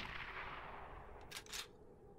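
A single sharp Lapua sniper rifle shot in ArmA 2 DayZ, brief and fairly faint, followed by a short echoing tail over quiet background hiss.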